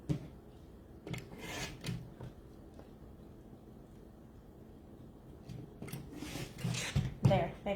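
A rotary cutter slices across quilt fabric on a cutting mat in a cross-body cut, producing soft scraping and rubbing strokes in a few short bursts separated by quiet pauses, recorded close and fairly faint.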